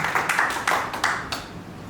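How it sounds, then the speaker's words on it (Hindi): Applause at a company anniversary celebration welcoming a sales engineer to the stage, a modest group clapping in uneven bursts that fade slightly toward the end, moderately close. "तालियों के साथ जैक सर का स्वागत किया जाए।"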